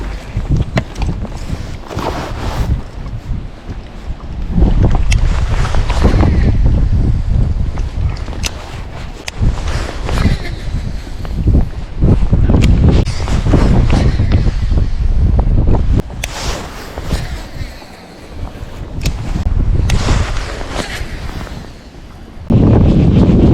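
Strong wind buffets the microphone and rushes across a lake during fall bass fishing from a boat, with waves slapping the hull; loud, gusty and continuous, rising and easing in surges with no talk.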